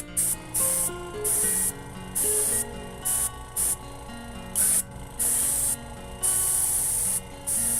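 Bursts of spray paint hiss in short, repeated passes as a Nerf blaster is coated, each spray lasting about a second with brief gaps between, over soft background music.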